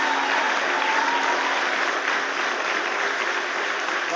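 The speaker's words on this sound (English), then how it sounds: "On my side here is Carl Deach, who I think deserves a huge round of applause for what he's done." A public meeting to save Huddersfield A&E erupts in loud, sustained audience applause, steady and dense throughout with no speech over it.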